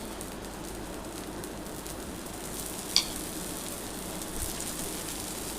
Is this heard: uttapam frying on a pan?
yes